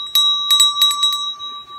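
A small spring-mounted service bell, one labelled ring for a kiss, is tapped in a quick run of bright dings. Each strike lands close and clear, then a steady metallic ring lingers after the strikes stop.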